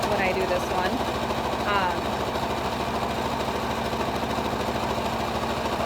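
A sewing machine runs steadily, stitching zigzag on a fabric face mask, its fast even mechanical chatter loud and close throughout.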